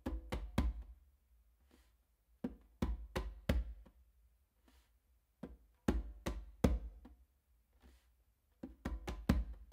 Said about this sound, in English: what you're actually going to do is a fingertip tap or a ghost note with your non-dominant hand on the conga